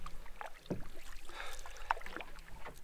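Canoe paddle strokes dipping into calm water, faint soft splashes and drips close by against a quiet outdoor background.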